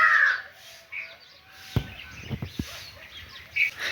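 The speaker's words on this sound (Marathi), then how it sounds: "पक्ष्यांचे कावकाव चालू आहे" Crows caw a few times at a distance, with sharp knocking or tapping sounds and quiet outdoor background.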